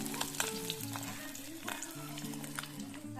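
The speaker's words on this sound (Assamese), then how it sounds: "ভাজিছোঁ" Fish, tomato and potato fry in oil in a home kitchen pan for a sour fish curry, a busy continuous sizzle with crackles and occasional stirring scrapes.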